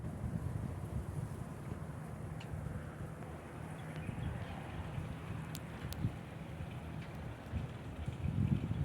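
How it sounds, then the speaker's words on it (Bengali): Strong wind rumbling and buffeting against the microphone, steady and fairly faint, with a few soft clicks. "দেখেন কি অবস্থা হতে আছে বাতাসে।"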